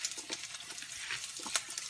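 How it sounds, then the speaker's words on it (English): Onions frying in a pan, a close, soft continuous sizzle with faint crackles and a light stir or clink near the end. "the onions are still frying"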